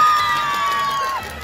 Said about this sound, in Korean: 지금 한번 박수 한번 쳐볼게요. 박수!